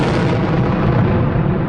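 A loud, continuous rumbling roar of a rocket explosion, dense and heavy, filling the whole moment without pause.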